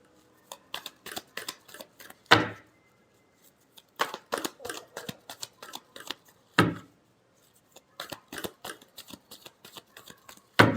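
Tarot cards are shuffled close up in three bursts, each a run of quick riffling flicks ending in a sharp slap as the deck is squared, with brief silences between bursts.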